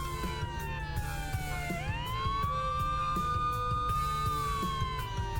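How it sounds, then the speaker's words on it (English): A police siren plays from a phone's speakers, a steady electronic wail that sweeps down, jumps up and holds before falling again, continuous and moderately loud, with no voices. "a police siren is playing from the speakers"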